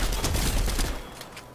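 Rapid game gunfire, a dense burst of shots that fades off toward the end, with no talk over it.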